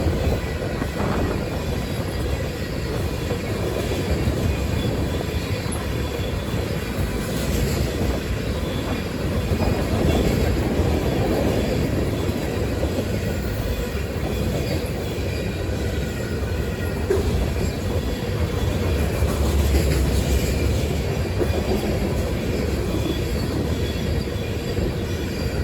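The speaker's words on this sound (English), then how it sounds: "This is one of the only sand trains that CSX runs on its roster," A long CSX freight sand train rumbles steadily past at close range, wheels grinding and occasionally squealing against the rails, with no letup.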